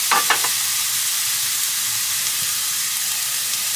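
Food browns in a pan in a truck cab kitchen, giving a steady, close, broadband sizzle that hisses continuously throughout, with a few brief stirring clicks at the start.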